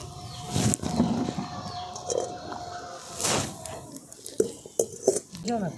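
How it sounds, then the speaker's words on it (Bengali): A metal wok (kadai) is set down on a stove burner while making jalebi, with a few close clanks of metal on metal and some scraping and rattling of cookware between them. "উনুনটা ধরে নিচ্ছি এবার কড়াটা বসিয়ে দিচ্ছি"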